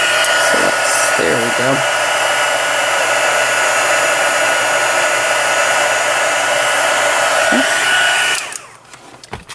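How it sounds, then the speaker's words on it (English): A heat embossing heat tool blows hot air in a loud, steady whir that runs almost the whole time, then cuts off near the end, leaving a brief quiet tail with a short spoken remark. "the heat tool gets really, really hot"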